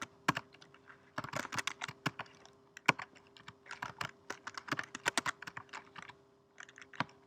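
Typing on a Mac computer keyboard, close and clear, with irregular bursts of rapid key clicks separated by short pauses and a faint steady hum beneath.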